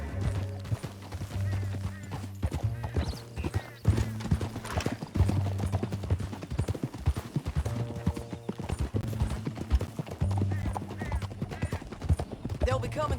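Horse hooves clip-clop at a gallop in a Red Dead Redemption 2 western canyon chase, a busy continuous pounding under game music and occasional voices, with a whinny near the start.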